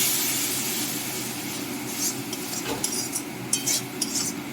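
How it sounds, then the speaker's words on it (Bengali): Spice masala for a fish head and cabbage curry is being stir-fried in a pan, giving a hissing sizzle and a few sharp spatula clinks against the metal, near and moderately loud. "ভালো করে এটা কষিয়ে নিচ্ছি মশলাটা খুব ভালো করে কষানো হয়ে গেছে"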